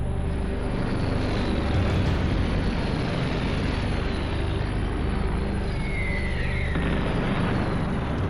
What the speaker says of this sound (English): Overhead, hundreds of Allied planes brave anti-aircraft fire to carry bombs and paratroopers towards France.